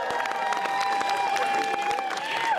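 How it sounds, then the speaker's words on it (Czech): Audience applause and crowd noise at a village festival contest, moderate and continuous, mixed with a sustained musical tone and scattered sharp claps. "můžete tady zatleskat krásné slyšení."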